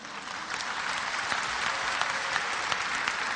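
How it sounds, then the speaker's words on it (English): Sustained audience clapping at an Islamic conference, dense and even, with a few sharper individual claps standing out as it continues. "you're clapping"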